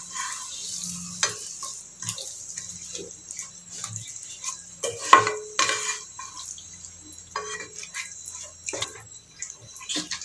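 Yogurt is stirred into egg biryani masala in a cooking pot, with intermittent scraping and wet stirring knocks from a spoon against the pot, fairly close, over a faint low sizzle, with no talking.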